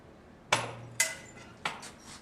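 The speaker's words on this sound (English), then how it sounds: "the hammer swings through and will slowly catch and release it back to its neutral position" A polymer impact testing machine's pendulum hammer swings through a specimen, giving three sharp, fairly loud metallic strikes about half a second apart, each ringing briefly before fading, with no voices.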